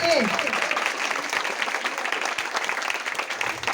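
Applause from an audience after a school play at a Teachers Day celebration, a steady wash of many hands clapping that stays loud and dense throughout, with a voice briefly audible at the start.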